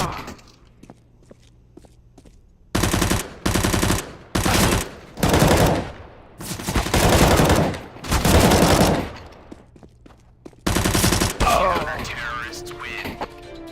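Rifle fire in a professional CS:GO match, loud automatic bursts in several long sprays separated by brief pauses, close and sharp, with footsteps and in-game callouts in between.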